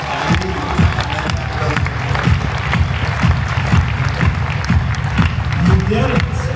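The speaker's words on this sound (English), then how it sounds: "Let's give these guys a round of applause." Audience at a real estate business summit applauds and cheers, a dense, steady wash of clapping with rising shouts and whoops throughout, loud and sustained.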